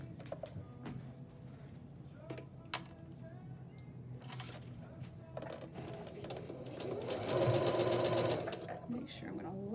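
A sewing machine stitches quilt block seams in a quick, steady mechanical run that grows louder toward the end, with a voice speaking over it.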